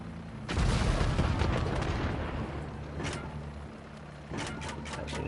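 Aircraft carpet bombing in GTA Online: a string of heavy booming explosions, one big blast early followed by further distant thuds and rumbles, with a steady engine drone underneath.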